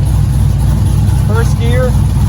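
A third-generation Chevrolet Camaro's V8 idles with a steady, loud low rumble, close by, after a Tremec Magnum F transmission install, with a voice briefly heard over it.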